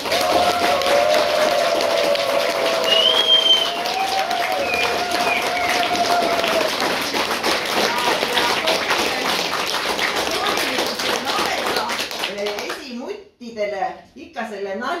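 An audience breaks into sustained clapping with scattered cheers and chatter, holding strong for about twelve seconds before it dies away and a person starts speaking.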